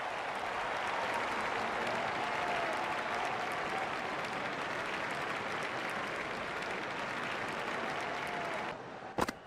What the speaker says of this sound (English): The crowd are on their feet applauding the century.